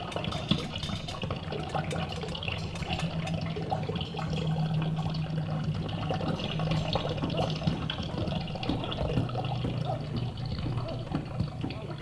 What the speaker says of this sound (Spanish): Agua de la llave nomás, solamente la llave corriendo.